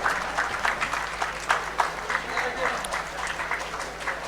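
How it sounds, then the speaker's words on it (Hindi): Audience applause at a district award ceremony in Dhanbad honoring COVID warriors, a lively crowd clapping in uneven bursts for several seconds. "आप जोरदार तालियों से इनका उत्साहवर्धन करें"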